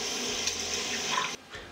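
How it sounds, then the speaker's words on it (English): Tap water pours steadily into a newly installed vessel sink, a close hissing splash that cuts off abruptly near the end, then low gurgling. "Well, should I run some water? You should run some water."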